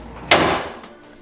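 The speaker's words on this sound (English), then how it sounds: "Okay, last drawer is going in." A drawer is shoved into a newly assembled IKEA dresser, giving one loud close thump that slides to a stop and is followed by a faint knock.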